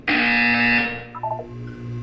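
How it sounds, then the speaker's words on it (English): Loud electronic buzzer in the video game Portal 2, one sustained harsh tone lasting under a second, then fading into a quieter hum with a few faint blips. "You will hear a buzzer."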